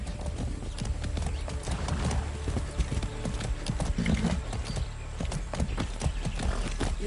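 Horse hooves clip-clop in a steady trotting rhythm while riding in the video game Far Cry 6, close and fairly loud, with a brief whinny and a voice over part of it.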